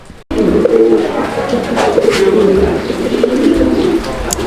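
A fancy pigeon coos loudly and close by in a continuous throaty run, with faint background noise.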